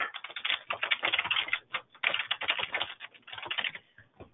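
Rapid, uneven clicking of fingers typing on a computer keyboard, close and clear, with brief pauses between bursts of keystrokes and no voice.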